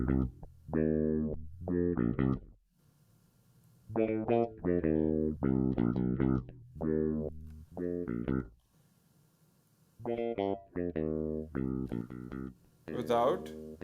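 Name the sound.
bass guitar through BassBalls plugin distortion effect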